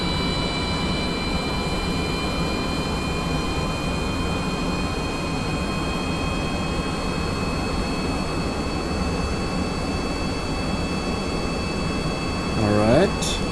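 A jet engine with afterburners in Kerbal Space Program, a steady broad roar with high whining tones, throttling down, with someone talking over it.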